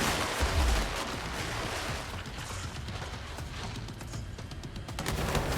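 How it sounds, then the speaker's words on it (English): Bombs falling and exploding in the video game Control, a dense continuous rumble of blasts and crackling debris, loud and sustained with a heavy low boom near the start. "the bombs coming down."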